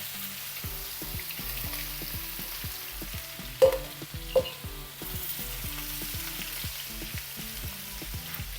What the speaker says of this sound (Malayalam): ശരിക്കും ഇതൊക്കെ നെയ്യിട്ടാ മൂപ്പിക്കല്ലേ